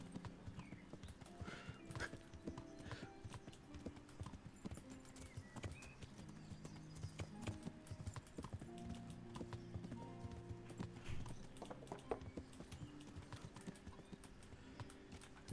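Horse hooves clip-clop irregularly in the medieval video game Kingdom Come: Deliverance, with steps, snorts and a whinny amid game ambience, fairly quiet throughout.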